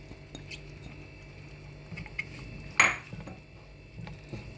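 Soft kitchen clatter with a moist, brief scrape and thump as chopped parsley is tipped into a pot of karnıyarık, over a low steady background hum.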